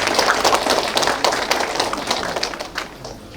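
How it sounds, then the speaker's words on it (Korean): Loud, lively applause from the audience at a neighborhood redevelopment briefing in Doksan-dong, Seoul, as a city council member is introduced; dense clapping that gradually thins toward the end. "많은 박수로 부탁드립니다"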